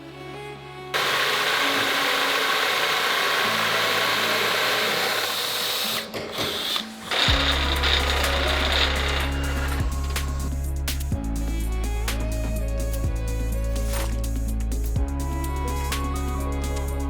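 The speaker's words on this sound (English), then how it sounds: "He's using a combination of a jig and the drill press" A drill press whirs loudly, then its motor runs in repeated bursts with brief pauses while drilling holes using a jig, steady and close, no voices.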